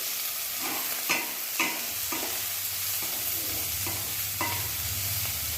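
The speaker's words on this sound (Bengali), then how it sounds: "পেঁয়াজ কুচিটা দেওয়ার পর ভালো করে নাড়াচাড়া করে সব কিছু মিক্স করে দিচ্ছি" Boiled taro and chopped onion are stirred in a hot pan, with a constant sizzle and repeated scraping spatula strokes about every half second, close and loud with no talking.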